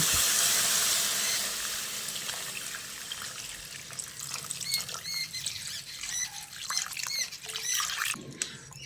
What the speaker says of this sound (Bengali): এবার আমি এখানে পরিমাণ মতো জল দিয়ে দিচ্ছি